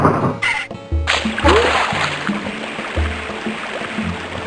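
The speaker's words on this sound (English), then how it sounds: "I'm panning for gold." Water splashes and sloshes in a video game as gold is panned in a river, with brief synth tones at the start and intermittent low musical notes underneath.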